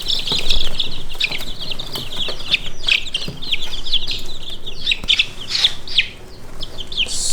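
A crowd of Red Mottled Ancona bantam chicks peeping constantly, a dense overlapping chorus of high cheeps close by, with occasional soft wing flutters and scuffling.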